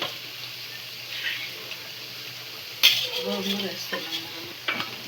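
Gongura chicken masala with salt and chilli powder sizzling in a pan, a soft steady fry under several loud scrapes and clanks of a spoon stirring against the metal.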